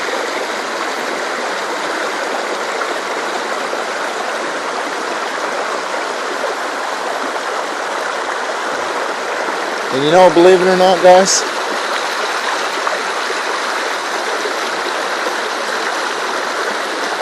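A brook flows steadily beside a hot tent on a winter camping trip, a constant close rushing wash that runs unbroken throughout while someone talks briefly partway through.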